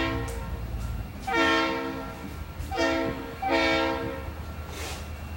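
Model trains running around a layout, heard as a repeated horn-like tone in three short bursts over a low running rumble, fairly faint and with no talk.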